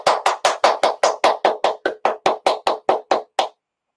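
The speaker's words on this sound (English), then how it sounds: "I'll give you one final round of applause." Applause at the close of a talk on winter weather, heard as a single pair of hands clapping at a steady rhythm, about fourteen close, loud claps spread over three and a half seconds before it stops.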